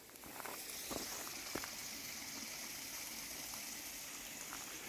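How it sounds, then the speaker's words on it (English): Gentle continuous rush of a creek flowing through Swiss forest, soft and somewhat distant, with a couple of faint clicks or steps early on. "The sound of water is calming, isn't it?"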